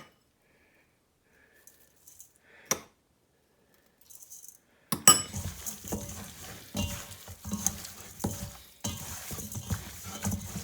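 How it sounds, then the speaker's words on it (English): Spices, cinnamon, oregano, salt and pepper, being stirred and tossed into chicken wings in a bowl for Whole30 buffalo wings, a busy rattling, scraping churn that starts after a couple of quiet taps and continues steadily, close by. "We're gonna mix them up real good."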